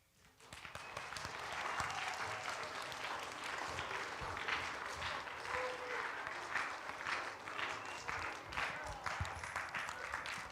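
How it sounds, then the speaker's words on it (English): An audience claps at a school spelling bee in a hall, with sustained applause that builds quickly and then carries on steadily for a long stretch. "we don't need to clap for as long as the whole round was"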